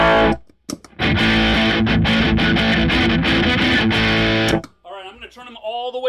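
Electric guitar played through a DIY AustinDrive overdrive pedal gives a loud, sustained distorted strum that rings for a few seconds and then stops, after which someone talks close by.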